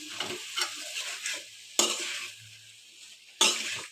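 Cauliflower frying in a spiced masala for a Bengali fish curry, sizzling steadily while a spatula stirs and scrapes the pan, with two sharp louder scrapes partway through.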